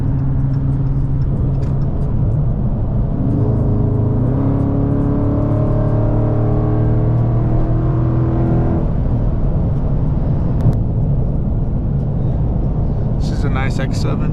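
A Dodge Charger Scat Pack widebody with a mid muffler delete drones loud and close, its engine note climbing in pitch under acceleration, then settling back to a steady rumble.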